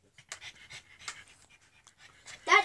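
A pug pants close by in quick, rhythmic breathy bursts, ending with a short whining or vocal squeak.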